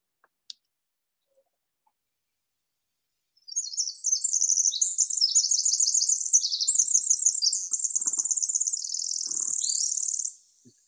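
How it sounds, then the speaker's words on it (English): A Pacific wren sings in Muir Woods, a long, rapid, high-pitched cascade of tinkling trills and buzzy notes lasting about seven seconds after a quiet start, with a faint click early on. "We have the Pacific wren. And the great thing about these birds is their call."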